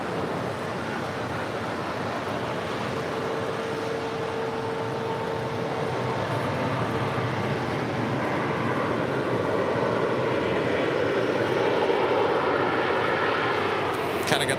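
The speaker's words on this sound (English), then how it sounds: "Qatar Airways Flight 741 coming in from Doha on this A350-1000, touching down here on the south side at 25 left" A Qatar Airways Airbus A350-1000 in from Doha touches down on runway 25 left at LAX, a sustained loud jet roar that swells slightly toward the end, with a voice talking over it.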